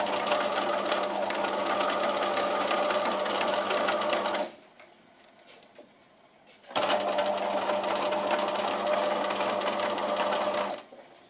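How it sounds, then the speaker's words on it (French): Domestic sewing machine stitching a backstitch on a garment pocket with rounded edges, running in two steady loud bursts of about four seconds each with a short quiet pause between them. "Donc j'ai refait mon point d'arrêt, je m'arrête"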